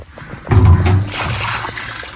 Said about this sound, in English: as you can tell it's started to rain now